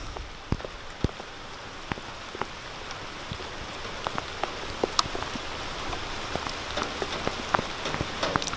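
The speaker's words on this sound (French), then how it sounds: "Ça pleut bien." Heavy rain pours steadily during a windstorm in Bordeaux, a dense continuous hiss of drops on surfaces with sharp individual drip impacts scattered throughout, close and alone without voices.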